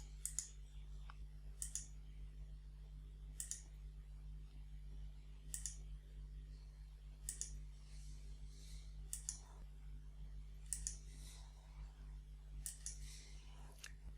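Computer mouse clicks sound crisply at a steady pace, about ten sharp single clicks spaced a second or so apart, over a low constant hum while designing an Arduino LCD keypad shield circuit board on a computer.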